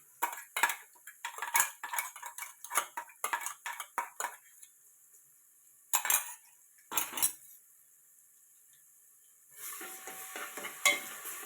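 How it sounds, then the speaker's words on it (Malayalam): Ginger, garlic and green chili paste goes into hot sunflower oil for a biryani, bringing bursts of sizzling and clinking spoon stirs against the pan, then a quieter pause before a steady sizzle returns. "ഓയിൽ സൺഫ്ലവർ ഓയിൽ നല്ല ചൂടായി വന്നിട്ടുണ്ട് നമുക്കിതിലേക്ക് അരച്ചു വച്ചിരിക്കുന്ന ഇഞ്ചിയും വെളുത്തുള്ളിയും പച്ചമുളകും ഒക്കെയും കൂടി ഇട്ടത്"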